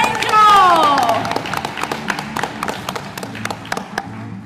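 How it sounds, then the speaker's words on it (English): Graduation ceremony audience clapping for a graduate; a voice speaks at the start, then scattered, fairly close claps continue in an uneven patter that thins toward the end. "We're going to clap one more time for Angel when she comes out of the portico there."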